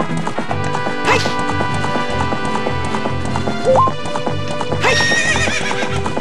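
A horse in the video game The Legend of Zelda: Ocarina of Time gallops with rhythmic clip-clop hooves and lets out two loud neighs, close and prominent over looping game music.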